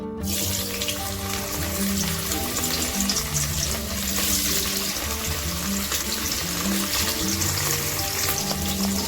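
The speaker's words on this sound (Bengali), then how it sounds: "একটি কড়াই তেল গরম করে প্রথমে আমরা পনিরটা ভেজে নেব" Paneer fries in hot oil in a kadai, a loud, dense, steady sizzle that carries on without a break and with no talking.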